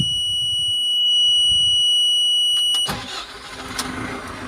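A JCB 3CX backhoe loader starts up: a steady high warning beep sounds from the cab, then the diesel engine cranks, catches and settles into a low rough idle close by.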